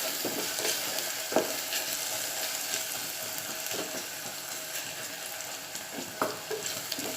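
Onions sizzling and frying in a pan, a steady close crackle with occasional scrapes and clicks of a spoon stirring, no talking.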